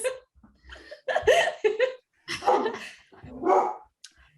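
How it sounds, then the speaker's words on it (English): A dog barks and yips in several short bursts nearby, mixed with excited vocal sounds and brief pauses between them. "I don't know what she's barking"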